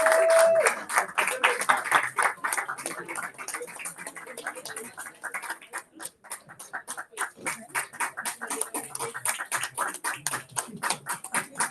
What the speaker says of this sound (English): Okay, cheer them as they come on.